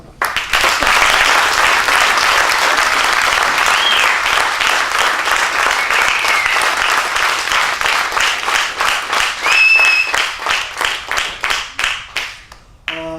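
An audience at a slam poetry event applauds children loudly and steadily, then the clapping thins out into scattered, slower claps before fading.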